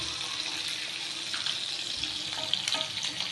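Murrel fish frying in a pan, giving a steady close sizzle and crackle with small pops and no voices.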